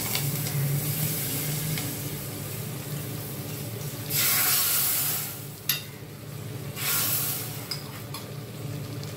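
Hot tempering poured into a pumpkin buttermilk stew, hissing in two bright sizzling bursts over a quiet background hum, with a small clink between them.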